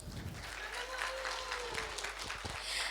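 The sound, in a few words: audience applause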